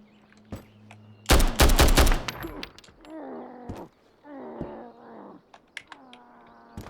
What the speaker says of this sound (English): he shot me like right in the face